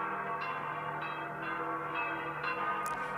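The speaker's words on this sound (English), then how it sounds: "The bells ringing through the Vatican as white smoke billowed from the Sistine Chapel." Church bells ring at the Vatican for a new pope, a steady, resonant layered peal with repeated strikes sounding from a moderate distance over continuous hum.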